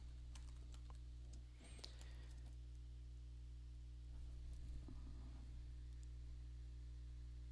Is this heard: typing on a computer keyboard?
yes